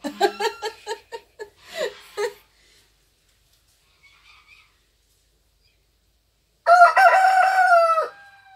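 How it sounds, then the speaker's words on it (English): A rooster crows outdoors, a long loud call near the end after a quieter stretch, preceded by a burst of rhythmic clucking or cackling at the start. "Yes, crowing."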